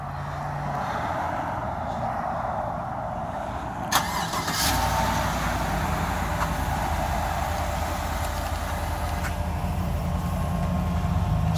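A 2015 Chevy Silverado LT pickup starts up on its automatic remote start, with a brief crank near the start giving way to a steady, close engine idle that continues to the end.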